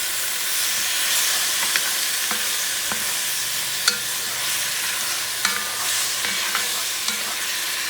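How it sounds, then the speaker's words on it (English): Shrimp and onions sizzle steadily in a pan for a shrimp stew with cauliflower rice, with scattered scrapes and clicks of stirring throughout and no talk. "Mix everything up."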